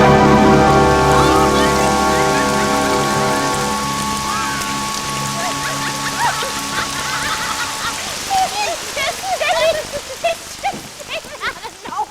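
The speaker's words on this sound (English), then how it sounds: "Oh, a little rain was just what we needed." Stage rain effect in an Australian theatre production of The Witches of Eastwick: a dense, steady patter of falling rain that rises as sustained orchestral chords fade, continuing alone to the end.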